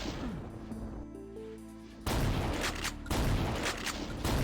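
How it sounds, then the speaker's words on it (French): Heavy shotgun blasts from the Doom II video game, a thick roar of repeated booming shots with a brief lull after the first second, loud and densely layered with game effects. "le sniping au fusil à pompe"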